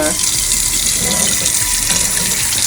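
Tap water gushes steadily into a pot in a kitchen while cooking saltfish, a loud, continuous splashing rush from up close that runs unbroken throughout.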